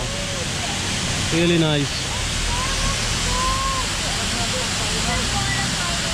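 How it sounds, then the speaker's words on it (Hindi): Khorfakkan waterfall in Sharjah roars as a broad, steady wash of falling water. A person speaks briefly over it, and other voices are faint in the background. "This is the waterfall."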